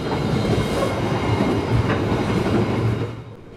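Passenger train 962 in Indonesia, near Lamongan station, rolling steadily along the rails with a dense low rumble and wheel clatter, loud and continuous before easing slightly at the end.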